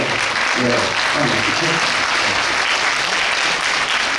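A large crowd at a book concert applauds steadily, dense clapping filling the room at a constant level, with a voice briefly audible underneath.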